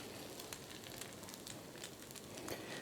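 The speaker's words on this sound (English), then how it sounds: "So while that egg is frying up" An egg fries in a pan, giving a quiet, continuous sizzle dotted with light crackles and pops that stays even throughout.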